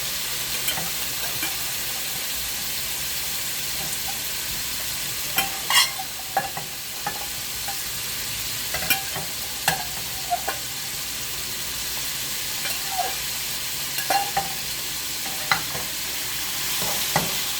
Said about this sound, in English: Let's give it a saute.